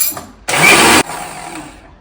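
A kitchen mixer grinder whirs loudly in one short burst of about half a second, grinding prawn sukka masala into a coarse, not-fine paste, with a quieter room before and after.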